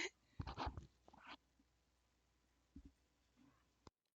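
A dog in the video game GTA V gives a few short whimpers and yips up close, followed by a quiet gap and then a couple of faint further sounds before the clip cuts off.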